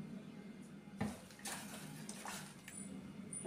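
Chopped cauliflower is rinsed by hand in a bowl of water in a home kitchen, with soft splashes and sloshing, a sharper splash near the start, and faint clinks against the vessel.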